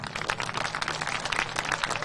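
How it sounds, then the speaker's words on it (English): A crowd at a high school football game between Lander Valley and Evanston gives sustained, dense applause for senior student athletes, a steady wash of many hands clapping from a distance. "give all these student athletes a big round of applause."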